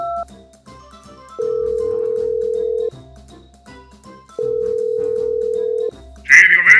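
Mobile phone ringback tone from a video game: two long steady beeps separated by pauses, loud and clean, followed by a short burst of a voice at the end.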